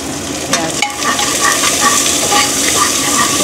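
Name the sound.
onion frying and being stirred in hot oil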